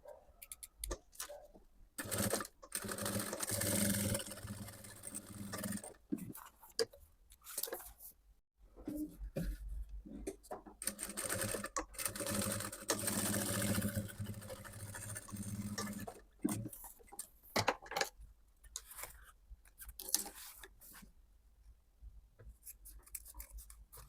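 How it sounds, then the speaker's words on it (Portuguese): Sewing machine stitching the sides of a zipper on a synthetic-leather box pouch, heard as quiet runs of rapid mechanical clatter starting and stopping in short stretches, with pauses and handling noises between them. "E nós vamos, então, fazer uma costura, primeiro aqui pelas laterais aqui da parte do zíper"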